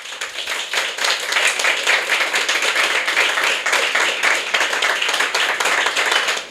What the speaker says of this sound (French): On acclame papa Point